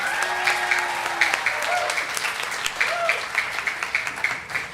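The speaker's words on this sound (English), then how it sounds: "Let's give them another big round of applause." An audience claps at a kindergarten graduation ceremony, a steady round of applause with scattered louder claps, while a voice talks over the start.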